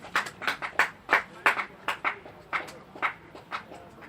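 Scattered applause greets batsman Fletcher as he walks off after a 49-run fourth-wicket stand at a club cricket match, New City versus Tynedale; sparse, uneven claps spaced across the moment, moderately distant, with no talk.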